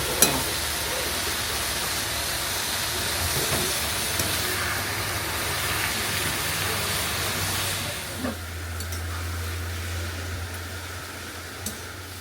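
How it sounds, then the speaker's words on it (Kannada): A pot of sambar boils steadily with a continuous hiss of steam and faint bubbling. A low hum sits beneath it, and a few small clinks break through the sound. "ಸಾಂಬಾರ್ ಕೂಡ ಕುದೀತಾ ಇದೆ"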